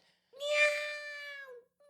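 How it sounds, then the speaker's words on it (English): A female cat gives a single long, high-pitched meow, clear and close, holding steady for over a second before trailing off, with a brief faint note after. "she'll do a long, high-pitched meow"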